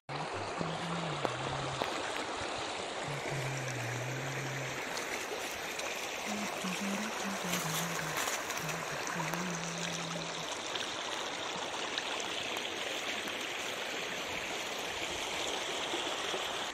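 A mountain stream in Duggada, Uttarakhand rushes steadily nearby, a dense, continuous wash of flowing water that holds even throughout with no voices over it.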